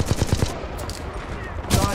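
Rapid gunfire in the shooter Titanfall 2 pilot campaign: a fast burst of close, loud shots, then a short lull and another burst at the end, with some game noise underneath.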